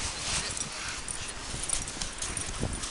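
A dog digging out of snow after a storm, a continuous near scraping and scrabbling with soft thuds and rustling, steady and fairly loud, no clear voices.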